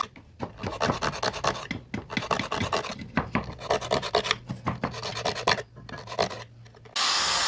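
Steel file rasping a hand-forged blacksmith coconut scraper, with repeated dry strokes in quick irregular rhythm, close and fairly loud, and no talking.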